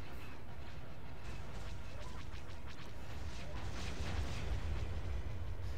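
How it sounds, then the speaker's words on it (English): A proton torpedo detonating in the space-combat video game FW:TOW, a broad, rumbling explosion with a large blast radius sustained across the clip, swelling louder near the end, with no talk over it. "the proton torpedo has a fairly large explosion radius"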